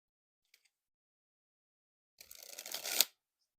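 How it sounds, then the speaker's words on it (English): A deck of Exotic v2 Dragon Fruit playing cards with all-foiled backs is shuffled in one close, crisp riffle that lasts about a second and builds to a snap after a quiet pause. "they look fantastic when shuffling them up"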